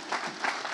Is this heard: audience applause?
yes